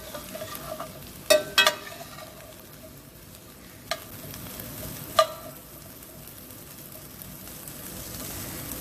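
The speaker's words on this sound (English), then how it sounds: "Everything has a nice sizzle on it." Broccoli, cauliflower and other vegetables frying in a pan, with a steady soft sizzle and a few sharp clacks from stirring.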